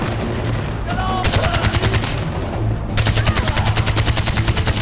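A gun turret in Far Cry 4 fires loud, rapid machine-gun bursts in two long runs separated by a short break, each shot sharp and evenly spaced.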